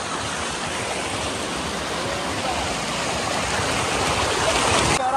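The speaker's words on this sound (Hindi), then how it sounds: "नदी बह रही है" Steady rushing water from a deep flowing river near Kajligarh fort and waterfall fills the clip, a continuous broadband wash with no voices.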